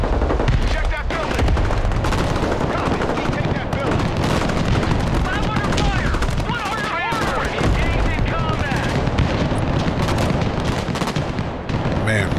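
Dense gunfire and explosions in the war game Broken Arrow roar continuously and loudly, with rapid automatic bursts layered over heavy booms, and a voice talks underneath the battle.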